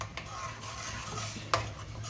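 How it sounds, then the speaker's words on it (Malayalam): Mushroom curry masala being stirred and sautéed in a pan, with a low steady sizzle, a few soft spoon scrapes and one sharp utensil clink near the end. "എണ്ണ തെളിയുന്നത് വരെ ഒന്ന് വഴറ്റിയെടുക്കാം"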